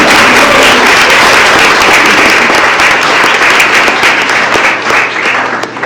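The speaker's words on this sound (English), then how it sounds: "Give yourselves a round of applause" An indoor audience at an evening awards event bursts into loud, sustained applause, dense clapping that holds steady and tapers slightly at the end.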